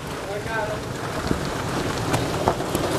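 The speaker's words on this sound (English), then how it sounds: "it's pouring" Heavy pouring rain during a storm hisses steadily on surfaces outdoors, a dense continuous wash with a few louder drips and knocks, and a voice speaking briefly over it.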